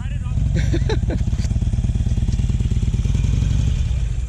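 A Harley motorcycle idles with a loud, close, throbbing engine rumble as it is ridden up a loading ramp, with a few clattering knocks early and brief voices over the engine.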